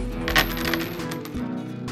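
Coins from a broken piggy bank spill out of a bag in a continuous jangling clatter, with bright metallic clinks and one louder burst early on, close and steady throughout.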